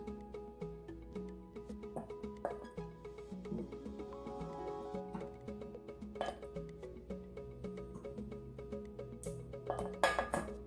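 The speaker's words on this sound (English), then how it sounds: "we're going to pull them out with a slotted spoon" A slotted metal spoon scrapes and clinks against a pot while lifting simmered vegetables and spices out of vegetable broth for vegan pho, with soft intermittent knocks and scrapes under steady music.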